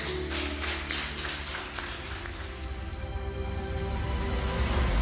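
A church congregation claps together during a worship service, a dense patter of many hands blended with sustained music underneath, strongest at first and continuing steadily.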